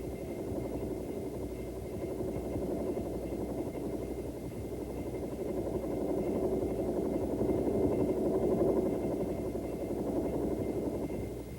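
A Bell Huey training helicopter lifts into a normal takeoff from a hover, its rotor and engine making a loud, steady, close drone that swells slightly midway and continues without speech.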